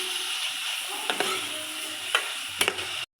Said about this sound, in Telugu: చాప్ చేసుకున్న వెజిటేబుల్స్ అన్నీ వేద్దాం. వెజిటేబుల్స్ అన్నీ బాగా మిక్స్ చేసుకొని బాగా వేగనివ్వాలి.